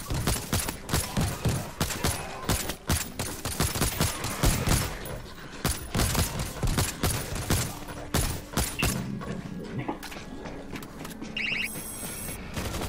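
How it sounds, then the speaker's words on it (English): An automated machine-gun turret in World War Z fires long, rapid staccato bursts, loud and close, in rhythmic volleys that thin out near the end as mechanical game sounds take over. "Auto turrets up! Machine gun set."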